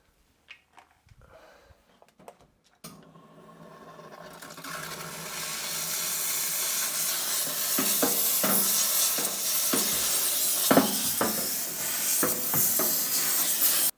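A steam cleaner working over a table, including the removed plate area, giving a sustained loud hiss with bursts and sputters after a few quiet knocks at the start.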